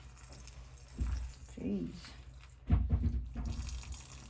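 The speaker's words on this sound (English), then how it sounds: "More water came out than I was expecting." Water gushes out of a toilet during a plumbing job, with close splashing bursts around the start and again later. People talk and exclaim over it.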